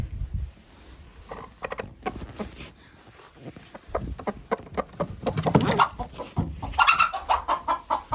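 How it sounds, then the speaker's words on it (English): A hen clucks repeatedly in short, agitated bursts, close by, with some rustling and scratching around her. "one cranky hen that hates people"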